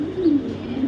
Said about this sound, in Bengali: BRPFC ক্লাবের একটা কবুতর,